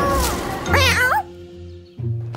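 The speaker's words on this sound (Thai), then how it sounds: "มามะแมวน้อยแมวน้อย" A small cat meows twice amid a comedic live-action skit, the cries rising and falling in pitch, with voices talking around them and a brief louder vocal burst at the end.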